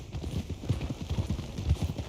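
Horse hooves clip-clop in Red Dead Redemption 2, a steady, close, rhythmic trot of muffled thuds lasting the whole stretch.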